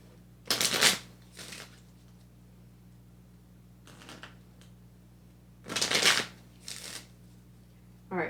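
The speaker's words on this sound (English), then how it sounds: "let's shuffle" Deck of scratch-off prompt cards being shuffled by hand, with several quick riffling bursts separated by short pauses, close and fairly quiet, with no talking.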